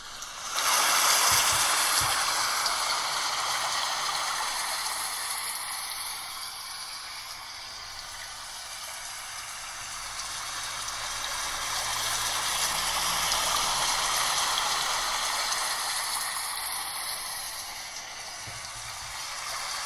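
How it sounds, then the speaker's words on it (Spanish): Recorded rain sound plays back for a microphone test, a steady broadband wash of falling water that swells and eases over about twenty seconds, with no voices. "Sonido de lluvia, vamos a hacer unas pruebas aquí de cómo se escucha la lluvia."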